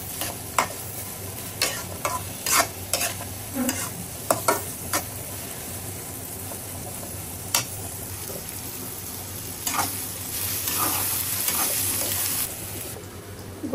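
A spoon stirs and scrapes in a large pot of nihari with whole green chillies and ginger frying, a steady sizzle underneath and irregular knocks of the utensil against the pot, close and fairly loud.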